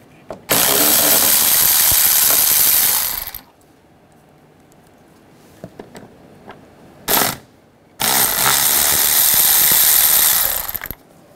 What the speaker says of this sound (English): Using a 10 millimeter socket, take these two bolts out.